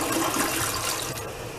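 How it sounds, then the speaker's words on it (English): A toilet in a Super 8 motel bathroom flushes with a loud close rush of water that holds steady through the short moment. "we always got to show the flush"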